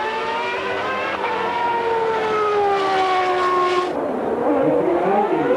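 A 1994 Formula One car on track during qualifying, its high-revving engine screaming loud and steady with falling pitch sweeps as it passes, then cutting off sharply near the end.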